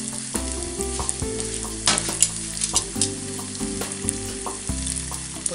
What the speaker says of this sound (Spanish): Empieza a tronar, así que ya está caliente mi aceite y lo vamos a dejar en que fría.